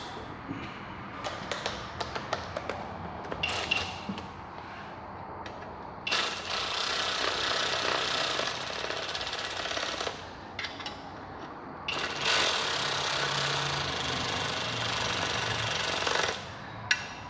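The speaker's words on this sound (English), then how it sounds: "Just get that ratchet. Ratchet will do that for us." Ratchet tightening manifold bolts on a 2013-2014 F-150 3.5 EcoBoost engine, rapid clicking bursts followed by long stretches of dense metallic ratcheting that stop and start again, close and fairly loud.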